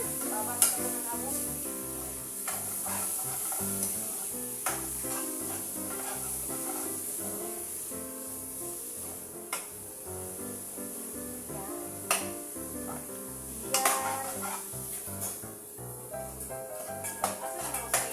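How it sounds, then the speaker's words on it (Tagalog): Ground pork sautéing in a pan, stirred steadily with a spoon or spatula: a continuous sizzle with repeated scraping strokes and occasional clatter, close by, with background voices and faint music. "Nagisa na natin yung giniling."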